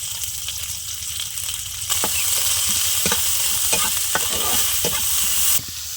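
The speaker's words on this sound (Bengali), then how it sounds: "পেঁয়াজটা একটু ভেজে তুলে নিয়েছি" Onion frying in hot oil with tempering spices sends up a loud, continuous sizzle. Repeated scraping strokes of a spatula stir through it, and the sizzle swells partway through.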